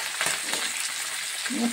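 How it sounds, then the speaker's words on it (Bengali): Pabda or bele fish fry in hot oil in a pan, giving a soft, steady crackling sizzle that stays faint and close for a short moment with no talk. "ভেজে নেব একটা একটা করে"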